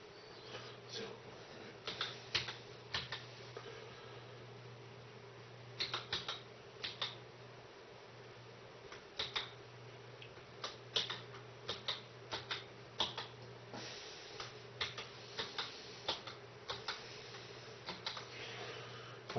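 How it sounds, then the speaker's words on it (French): A root password being typed on a computer keyboard, with bursts of quiet, close key clicks separated by pauses over a low steady hum. "Et on tape le mot de passe root."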